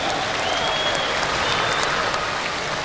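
Steady, continuous crowd applause at a 1995 modified tractor pulling event in Louisville, Kentucky, a broad wash of clapping from the stands that holds at an even level throughout.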